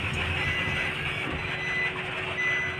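A vehicle backing up gives off steady electronic reversing beeps on a road in Santa Maria, Bulacan, over a continuous engine and traffic rumble, moderately loud and close.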